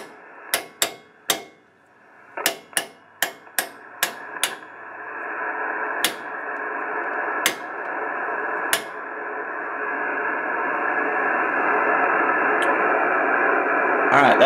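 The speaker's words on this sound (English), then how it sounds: "All right, that's a lot of static." Amateur radio receiver on the 160-meter band producing steady hiss of static that swells gradually louder, punctuated by a series of sharp, loud clicks and crashes of impulse noise.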